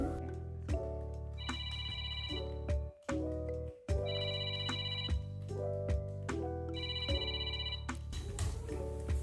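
A telephone rings in repeated electronic ring bursts with short pauses between them, steady and clear, with no voices.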